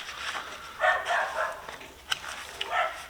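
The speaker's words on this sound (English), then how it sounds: "I apologize about the neighbor's dogs," Neighbor's dogs barking in the distance, several irregular yips and barks scattered over a few seconds, moderately faint with no talk over them.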